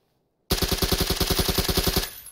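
SCAR assault rifle firing a sustained full-auto burst of about fifteen sharp, evenly spaced shots in PUBG, loud and close with a short tail after the burst ends.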